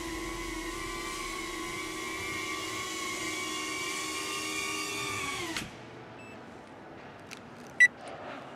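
A BetaFPV Pavo25 V2 cinewhoop FPV drone whines nearby as it comes in to land. Its steady high-pitched buzzing holds level for several seconds, then cuts out abruptly, leaving quiet ambience and one brief click.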